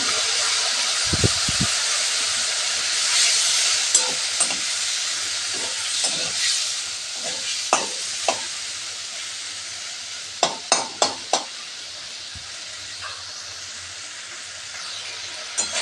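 A splash of water meets coriander and red chilli powder in a hot pan over low gas for a prawn dish, giving a long steady steam hiss with scattered stirring clacks and a quick cluster of sharper taps, close by.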